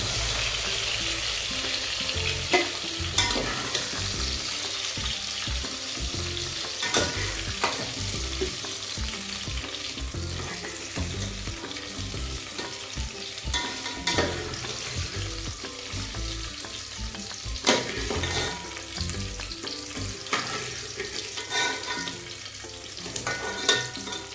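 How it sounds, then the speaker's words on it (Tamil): Brinjal (eggplant) sizzling as it fries in oil, with a steady crackle throughout and the repeated scrape and clatter of a spoon stirring the pan, close and fairly loud with no talk. "இப்போ கத்திரிக்காய் ஃப்ரை பண்ணலாம்."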